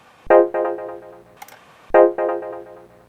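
An 8-bit sample played back from a Casio SK-1 sampling keyboard at its regular key: two identical bursts, each a sharp attack followed by a few quick repeated tonal hits, bright and alone.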